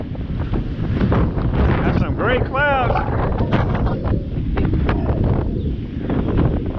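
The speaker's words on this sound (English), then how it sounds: "Well, it's plenty windy in the land of Nada." Strong wind blasts across a beach with dangerous surf, roaring loudly against the microphone throughout, while someone speaks over the rumbling gusts.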